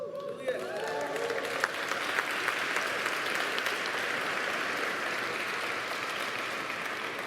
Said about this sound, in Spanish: eso fueron las mamás aplaudiéndole a los papás.